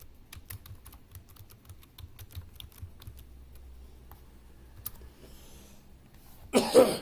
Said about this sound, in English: So I type RP Arivalagan